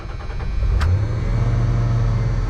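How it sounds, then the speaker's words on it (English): A 1988 Dodge Ram B250 Safari van engine cranks briefly and catches, then settles into a loud, steady low idle rumble up close. "Engine roars to life."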